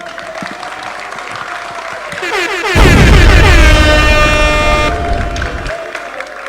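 A crowd claps loudly and continuously, building to a dense burst of applause, while a horn-like tone sounds over it before tapering off.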